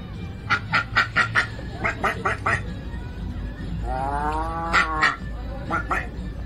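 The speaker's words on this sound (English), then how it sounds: "Look at that duck, he's got some bling on him" A duck quacks in a rapid series of loud, close calls, with a drawn-out rasping call in the middle and more quacks after, over steady background noise.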